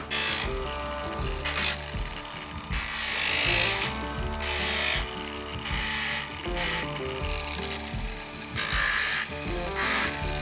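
A power sander works over a Toyota Tacoma's plastic bumper, giving a continuous loud grinding buzz that rises and dips in intensity as it moves across the surface, with no speech.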